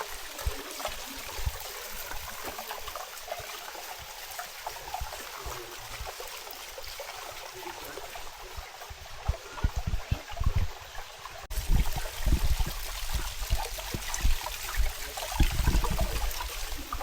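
A small waterfall trickles steadily in Black Star Canyon in Orange County, a continuous close wash of water that grows a little louder near the end, with no talking.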